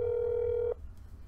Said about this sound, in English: all I have to do then is phone the apartment to see if Dr. Afton is home